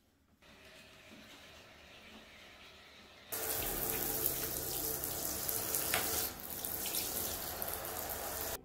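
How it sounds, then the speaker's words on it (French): A bathroom tap runs steadily as hair is rinsed free of Schwarzkopf Natural Colors dye products, the flow growing louder and heavier partway through, then easing slightly, with no talking. "Je commence le rinçage de mes cheveux pour enlever les produits"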